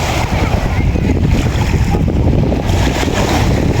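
Steady rushing of water and wind around a moving boat, with a low engine-like rumble and a faint voice under the noise.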